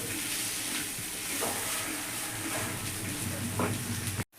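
Masala for chicken curry fries in a pan as it is stirred, a loud, close, continuous sizzle with scraping strokes that cuts off abruptly at the end.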